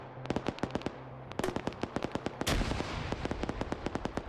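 Gunfire in an Arma 3 trench warfare battle, including a grenade launcher: a dense crackle of distant rifle shots and sharp reports with a louder blast partway through, no talk.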